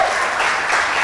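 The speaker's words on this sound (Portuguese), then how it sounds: "Aplaude." A Pentecostal church congregation claps during worship, a short, loud burst of dense applause lasting about a second.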